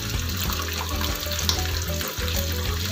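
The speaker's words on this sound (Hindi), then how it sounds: "ये डाल दिया जी फ्राई होने के लिए" Chapli kabab frying in oil in a pan gives a steady, loud broadband sizzle with a low hum beneath it, continuous and close throughout, with no talking.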